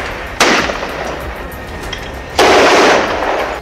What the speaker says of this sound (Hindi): गोलियां चलने लगी।